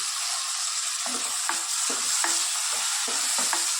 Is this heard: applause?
no